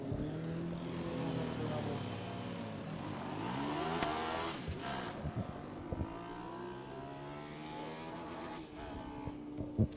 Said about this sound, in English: Sounds like it hit the limiter to get into the top gear there.